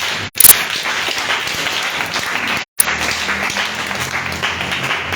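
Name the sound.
congregation applauding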